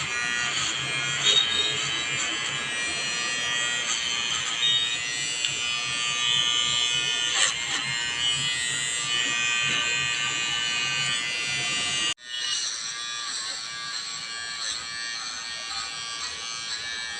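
An electric hair trimmer buzzes continuously and close while cutting a girl's hair, a steady high whine that briefly cuts out near the end and restarts with a slightly different pitch.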